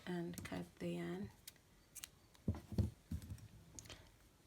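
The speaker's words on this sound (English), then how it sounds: "Chain one and cut the yarn." Scissors snip through crochet yarn in a few sharp, close clicks spread over several seconds, following a brief stretch of talking.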